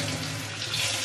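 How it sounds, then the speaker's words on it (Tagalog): A faucet runs water into an empty spray bottle, a brief, steady hissing splash close at hand that keeps an even level and rises slightly as it fills. "Lagyan natin ng konting tubig siguro, no?"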